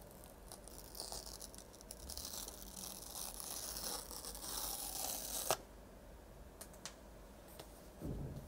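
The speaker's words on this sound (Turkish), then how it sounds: "Şimdi en güzel kısma yani güvenlik bantlarını yırtalım." Security tape is ripped from a 13-inch iPad Pro M4 box in several quiet, close, papery tearing strokes, followed by a few light clicks and handling rustles.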